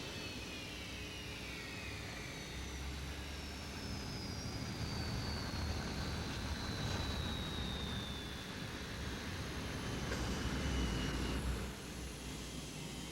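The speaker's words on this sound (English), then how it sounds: "Due to the C-5's huge size, it seems to take off in slow motion." A C-5 transport jet roars steadily at a distance as it takes off, its engine rumble and rising whine filling the air for several seconds without pause.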